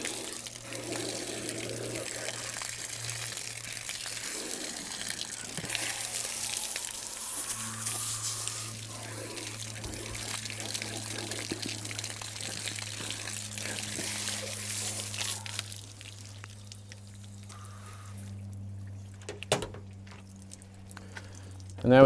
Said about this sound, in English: all that remains for this guy is to rinse out the inside of his body cavity